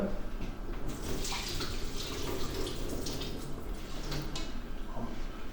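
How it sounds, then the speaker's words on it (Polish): Soaked raisins strained for a yeast cake, with the soaking water poured off in a steady, continuous splashing stream that runs unbroken throughout, close and moderately loud. "ja tutaj namoczyłem rodzynki do ciasta drożdżowego, mhm. cedzę tą wodę."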